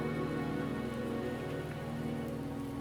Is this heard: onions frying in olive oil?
no